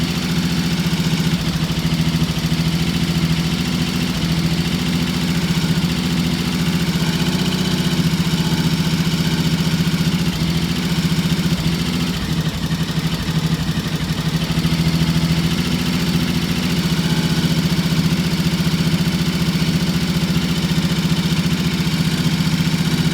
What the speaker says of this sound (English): It has to warm up, and when it does, it idles.